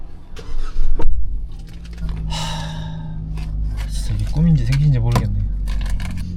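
The engine of a brand-new Kia Tasman pickup turns over and settles into a steady low idle rumble, heard close up while people talk and gasp nearby.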